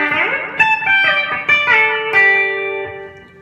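Twangy electric guitar fitted with a B-bender plays a lick that jumps up an octave, with bent, sliding notes and a final held tone ringing out clearly on its own.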